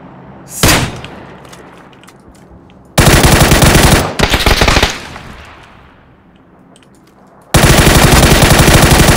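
Automatic gunfire in the battle royale video game PUBG: loud, close bursts of rapid shots separated by quieter stretches, with no talk over them.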